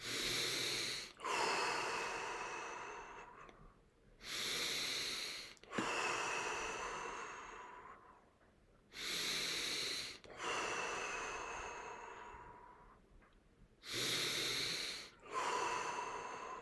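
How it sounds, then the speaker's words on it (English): Deep, slow breaths during a guided breathing exercise, long inhales and exhales alternating in a steady rhythm, close and clear with short pauses between, no talking. "See if you can breathe even deeper. Focusing on the breath in."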